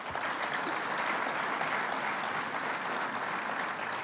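A crowd at a Western New York budget announcement event applauds steadily, dense even clapping held at a constant level for the whole stretch, with no voices on top.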